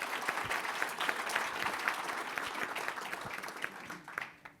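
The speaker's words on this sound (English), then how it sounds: "Give him a round of applause." An audience at a lawn care business event breaks into sustained applause, a dense, even clatter of many hands that holds steady and then fades out toward the end.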